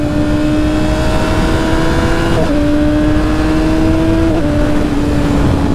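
A Yamaha R6 motorcycle engine on a ride holds a steady tone, with two quick rev blips during downshifts as the rider matches revs, loud and close over wind noise.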